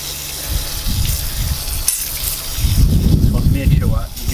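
Water hose rinsing a K&N air filter from the clean side, a hissing, splashing spray that runs steadily and swells louder near the end, with someone talking over it.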